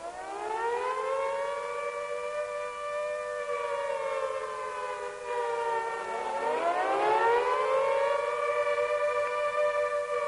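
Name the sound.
air raid siren, World War II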